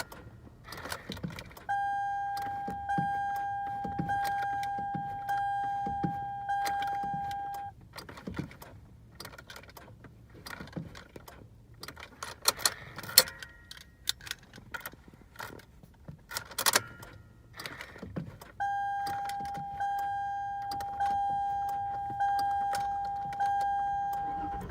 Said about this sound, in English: and it still doesn't want to start.